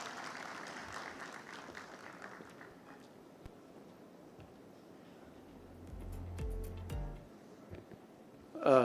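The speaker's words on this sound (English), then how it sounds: "A round of applause, please." Applause from a conference audience at an annual microfinance event, fairly soft and broad, strongest at the start and then thinning out, with a few low thumps and a brief louder knock near the end.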